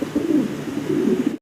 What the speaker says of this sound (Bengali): একের পর এক টপ কোয়ালিটি ফ্যান্সি কবুতর দেখতেছেন আপনারা